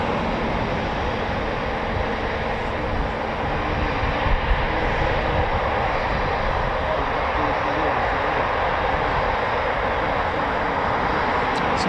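A Eurofighter Typhoon FGR4 jet roars at RAF Coningsby, a loud steady broadband rumble that holds for the whole stretch, with no voices heard over it.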